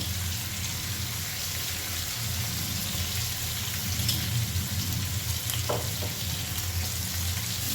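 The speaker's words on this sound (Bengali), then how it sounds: "নাড়াচাড়া করে খুব ভালো করে একটু ভাজা ভাজার মতো করে নেব" Hilsa fish head frying in a pan with turmeric and salt, a steady close sizzle with occasional stirring scrapes and clinks, continuous throughout with no talking.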